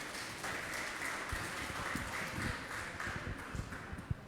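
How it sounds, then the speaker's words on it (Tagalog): Church congregation clapping together during a worship service, a dense, steady patter of many hands sustained throughout at moderate distance, with a few sharper claps standing out near the end. "Siya nga pong malakas na palakpak para sa ating Panginoon."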